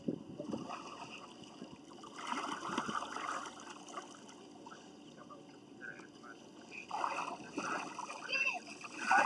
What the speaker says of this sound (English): I'm going to swim from right here.